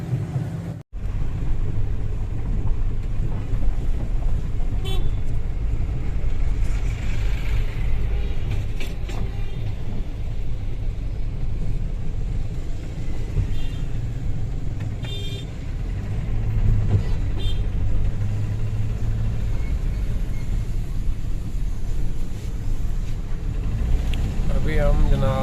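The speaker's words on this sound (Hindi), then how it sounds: "अभी हम जनाब गाड़ी की ट्राई ले रहे हैं, चेक कर रहे हैं" A Toyota Hiace Boxa 214 van with automatic transmission drives on a test run, its engine rumbling steadily and close throughout, with road noise and someone talking over it.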